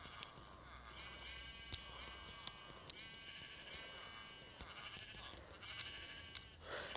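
Minecraft Pocket Edition sheep bleat repeatedly over a steady game ambience, several overlapping blocky-voiced calls rising and falling in quick succession, fairly faint, with no talking.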